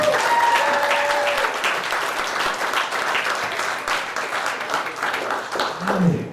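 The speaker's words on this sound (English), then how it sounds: "So please clap it up for Marc Ragovin." An audience at a stand-up comedy show applauds loudly and steadily, a dense wash of clapping that holds for several seconds, with a short voice near the start.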